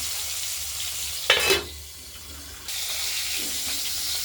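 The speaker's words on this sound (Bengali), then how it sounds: "আলুগুলো ভাজা হচ্ছে" Potatoes fry in oil in a pan while cooking a rohu fish curry, giving a soft steady sizzle. A brief louder burst of spatter cuts in midway, then the hiss drops quieter before returning.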